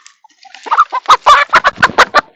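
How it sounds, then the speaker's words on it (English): Farm chickens cluck in a quick, loud run of about ten close bok-bok calls that build in intensity over a couple of seconds, heard alone. "Grossly underestimated how long it was going to take me to catch 40 chickens."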